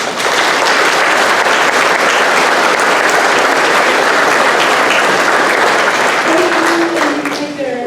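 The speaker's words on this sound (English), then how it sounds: "I want to give every single student up here a round of applause for that." At an elementary school fifth grade graduation, the audience claps for the students in a loud, dense wash of applause that holds steady, with a voice starting in faintly near the end.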